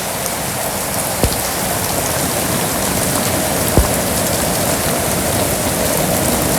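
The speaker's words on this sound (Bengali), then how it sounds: "আর টিপ টিপ বৃষ্টি।" Light drizzle falls steadily on a Bangladeshi village, a soft continuous patter with two brief sharper drops standing out, no voices.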